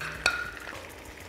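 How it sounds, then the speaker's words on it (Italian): Softened onion is stirred into risotto rice in a pan, a short scrape of a spoon over a low sizzle, quiet and close with no voices. "Andiamo a inserire la nostra cipolla dentro il riso."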